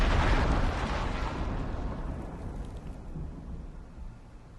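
Thunderstorm in the survival video game Icarus: a loud rolling thunderclap at the start that rumbles and slowly fades into a wide hiss of rain and wind, with no voices.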